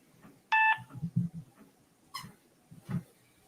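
An automatic phone dialer at a cold-calling desk setup dialing out, one loud steady beep tone, then short clicks and softer tones, heard up close.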